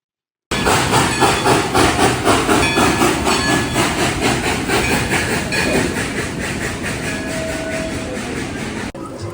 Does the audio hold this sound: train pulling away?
yes